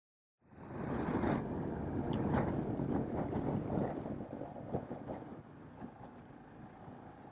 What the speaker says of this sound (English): I'm going to cut back to the on-bike audio and enjoy the ride.